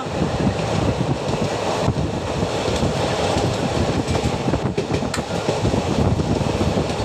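A passenger train running from Kozhikode to Coimbatore in rain, heard from inside as a steady loud rumble and rattle with wind noise that continues without a break.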